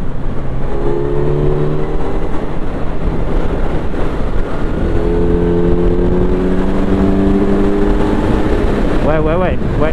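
A Kawasaki Z900 four-cylinder motorcycle engine revs and rises in pitch, loud and close, with strong wind rush and a brief shift partway through.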